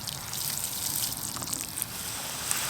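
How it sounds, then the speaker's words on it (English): Water poured over mint plants growing in containers, a steady trickling and splashing stream with small bright spatters, fairly close and moderately quiet, no talking. "I'm gonna do a nice water on all of them."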